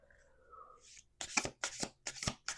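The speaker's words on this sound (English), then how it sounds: "Let's do 2 more shuffles." Playing cards are riffle-shuffled in a few quick, close bursts after a brief quiet hum, each shuffle a short crisp flutter.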